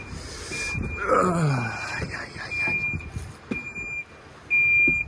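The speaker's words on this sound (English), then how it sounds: "this beeping has been really bugging me" Repeated high electronic beeps sound at intervals through background noise, interrupted by a brief burst of talking and mechanical clatter.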